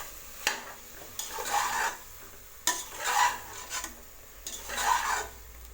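Soya chunks (meal maker) being stirred into masala in a cooking pan: a spoon scrapes and rasps in repeated strokes with short pauses between them, close and fairly loud, over a faint background sizzle.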